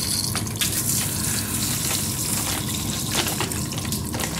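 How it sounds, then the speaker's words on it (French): Hot water sprays continuously onto an iced-up evaporator in a positive cold room whose fan has failed, a steady loud gushing hiss with splashing surges throughout. "Donc là je vais continuer à envoyer de l'eau chaude."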